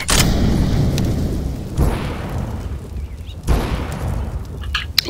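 Incendiary grenade in CS:GO: three loud whooshing bursts that flare up and die away, spaced about two seconds apart, with a rumbling, burning quality in between.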